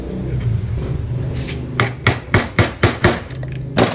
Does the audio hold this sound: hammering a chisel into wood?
yes